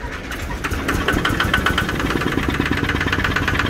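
Kubota ZT155 plus diesel engine mounted on a small farm vehicle starts and settles into a close, steady clattering idle with rhythmic knocking pulses.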